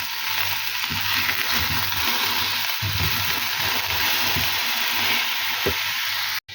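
Eggplants frying in a pan hiss in a steady, fairly loud sizzle close by, with occasional soft knocks and stirring bumps, cut off sharply at the very end.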